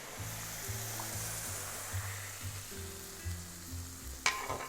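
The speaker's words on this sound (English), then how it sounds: "take a little bit of this liquid from the soup, put it in my pan to get the rest of the flour up" Soup liquid poured into a hot pan coated with flour and butter, for a smoky Polish potato soup, makes a steady, moderate sizzle with low hums beneath and one sharp clink near the end.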